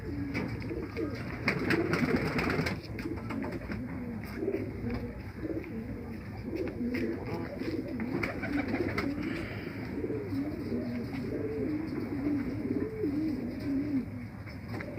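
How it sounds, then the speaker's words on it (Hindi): Abri pigeons coo in low, throaty rolling phrases, repeated over and over against a steady background, with a brief louder rustle early on. "ये प्योर अबरी कबूतरी है।"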